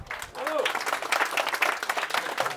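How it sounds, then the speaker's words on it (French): An audience at a Parti de la France political speech during a Brittany pork festival breaks into steady, dense applause, with a speaking voice briefly audible at the start. "Et ça mérite d'être salué et d'être applaudi."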